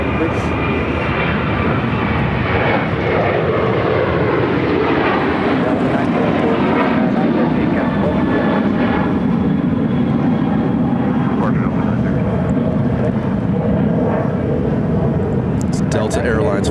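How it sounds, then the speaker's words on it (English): A Delta Airlines Boeing 737-800 jet airliner at Phoenix Sky Harbor rumbles steadily and loudly throughout, a broad continuous roar with a slight swelling near the end. "Delta Airlines Flight 913 headed to Seattle on a 737-800"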